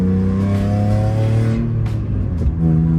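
A damaged Nissan 350Z engine runs roughly, its steady low drone wavering and stumbling with uneven surges, loud and close with no talk over it.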